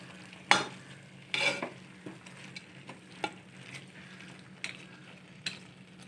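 Chicken curry being stirred in a pan, with a few scraping strokes of a spoon at irregular intervals over a low, steady sizzle; no voices.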